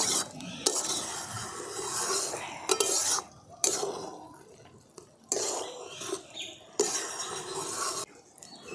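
A spatula or spoon scrapes and stirs an egg and potato dish in a pan, making loud, close, rhythmic scraping strokes with metallic clinks between them and a faint sizzle underneath.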